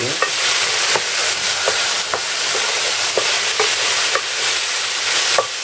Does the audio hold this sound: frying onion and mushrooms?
yes